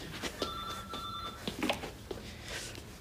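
A telephone rings with a steady electronic tone that carries through a noisy room, fairly faint under background clatter and brief voice-like sounds.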